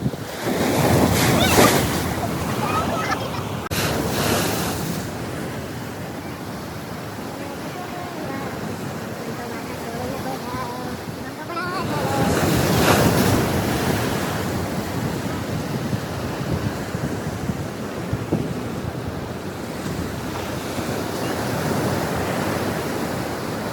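Sea waves surge and wash in steadily on the Malvan coast in Konkan, with gusty wind buffeting the microphone and swells rising and falling over time.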